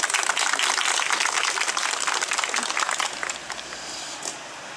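At a Republican People's Party rally in Giresun, a crowd applauds as a speaker is welcomed to the microphone; loud, dense clapping holds steady, then thins into scattered claps and fades out.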